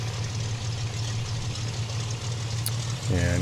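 A Cessna 182 engine hums at low taxi power in Microsoft Flight Simulator 2020, a steady low droning rumble that holds evenly before a brief rising shift at the end.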